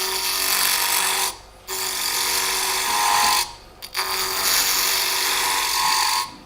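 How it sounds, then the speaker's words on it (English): A 3/8 spindle gouge cuts into a spinning wooden ornament on a lathe, hollowing it with a loud, steady scraping whir that stops briefly twice before carrying on. "what is the tool you're using? 3/8 spindle gouge."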